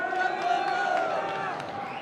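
A dense, roaring crowd cheers at a League of Legends esports event in São Paulo, Brazil, loud and sustained throughout, with a voice audible beneath the noise.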